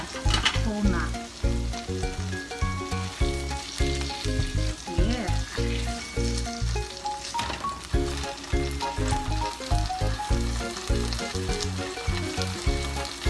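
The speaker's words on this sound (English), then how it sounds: "So I'm cooking steak tuna with pineapple." Tuna steak with pineapple fries in a pan with a steady, dense sizzle and crackle, with bursts of spitting and popping throughout, loud and close with no talking.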